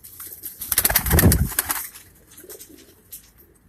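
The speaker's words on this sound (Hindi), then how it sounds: "ये भी फिरोजपुरी कबूतर है जी।" King-size Ferozpuri pigeons coo softly nearby, with a burst of wing flapping in the middle and quieter rustling and calls afterward.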